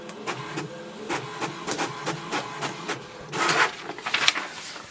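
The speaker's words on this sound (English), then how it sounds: "It will send a command for the printer to print the page." An HP Tango printer runs an information-page print job, its mechanism making a steady series of rhythmic clicks and whirs up close, rising into louder grinding feed noise toward the end.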